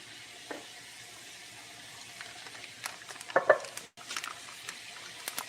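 Potatoes fry in a pan with butter and cream, giving a low, steady sizzle broken by a few louder clinks and scrapes from stirring near the middle.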